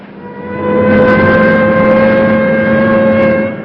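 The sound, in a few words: race car engines at an auto race track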